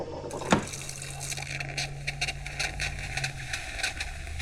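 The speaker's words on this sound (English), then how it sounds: "Move it to steam and it should eject steam." An espresso machine's steam wand gives a sharp hiss at the start of the burst, then a steady rushing spray of steam with a low motor hum underneath, close up.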